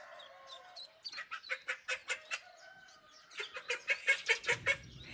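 A call duck mother with small ducklings gives two bursts of quick, rhythmic, nasal quacks, each a series of about eight calls, after thin high peeping at the start.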